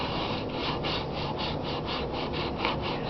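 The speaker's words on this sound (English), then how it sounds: "just lightly go up and down the whole length of the wand" Sandpaper rubbed up and down an oak wand makes a close, steady rasping scrape in even back-and-forth strokes, about three per second, continuous and unaccompanied.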